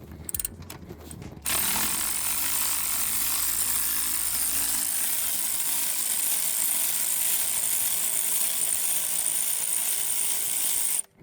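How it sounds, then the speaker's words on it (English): A ratcheting wrench working loose the 7mm brake caliper slide pin bolts on a 2007-2014 Skoda Fabia, a steady close mechanical clicking and whirring that runs continuously after a short start, with no talk. "I'm cheating a bit as I have a ratcheting wrench, but it makes life a lot easier"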